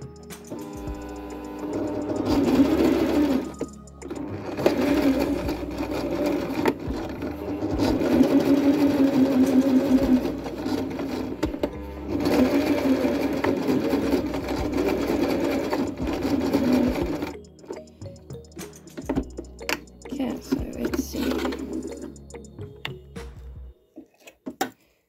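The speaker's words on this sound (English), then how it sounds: "So I'm just going to try and sew this now. So I'm just going on a simple straight stitch here." A sewing machine runs a simple straight stitch along a crochet belt, its steady motor whir and rapid needle ticking continuing in long bursts with brief pauses, close and fairly loud, no talking.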